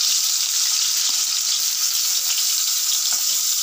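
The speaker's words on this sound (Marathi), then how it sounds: "त्यामुळे मी फ्राय करून घेते बटाटा" Potato pieces fry in hot oil in a pan for an okra and potato dish, giving a loud, even, continuous sizzle and crackle up close throughout.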